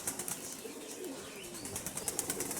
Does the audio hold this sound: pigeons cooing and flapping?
yes